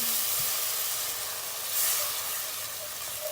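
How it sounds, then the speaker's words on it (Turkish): A glass of cold water goes into a hot pan of fried potatoes, carrots and flour, and a loud, steady hiss and sizzle of steam follows throughout. "Unumuz toplanmasın diye bir su bardağı soğuk su atıyoruz"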